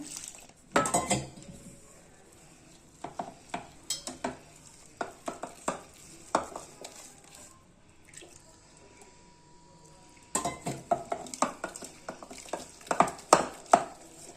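Irregular clinks and scraping taps of a utensil stirring gram-flour batter for chilli bajji in a bowl, coming in quick bursts with brief pauses, close and fairly quiet.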